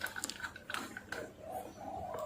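A handle is screwed tight onto a rotating plastic plate, producing faint, close ratcheting clicks and small mechanical ticks in an irregular rhythm.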